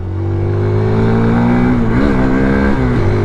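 A Hero Xtreme 160R 4V motorcycle engine runs loud and close, holding a steady drone before dipping and blipping as it downshifts for a corner, with no talk over it.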